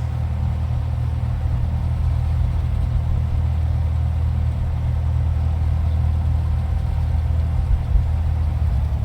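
A Cessna 172 engine taxiing in the X-Plane 11 flight simulator, with the AirfoilLabs Cessna 172 model. A loud, steady, low propeller-engine drone holds without a break throughout, and nobody speaks.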